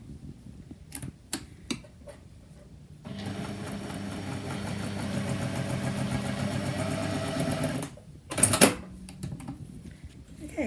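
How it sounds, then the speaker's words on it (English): A sewing machine hums steadily for about five seconds while joining jelly roll quilt strips with a quarter-inch seam, a close, even mechanical whir. Fabric is handled and shuffled before and after the run. "I'm just going to put the edges together and sew them together with a 1/4 inch seam"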